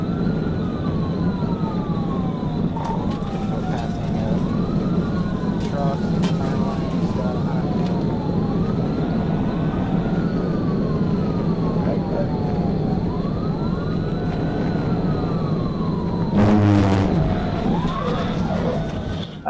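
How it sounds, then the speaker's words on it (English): A police car siren wails in repeated rising and falling sweeps over steady road and engine noise during a high-speed chase, with a brief burst of rapid yelping near the end. "I activated my emergency sirens in an attempt to stop the fleeing suspect"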